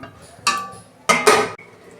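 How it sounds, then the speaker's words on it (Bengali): A metal lid set onto a pot of simmering lentil dal with tender pumpkin greens, heard as a sharp clank followed by a longer double clatter and ringing, close and loud in a quiet kitchen. "এবার আমি 5 মিনিট মতো ঢাকা দেবো।"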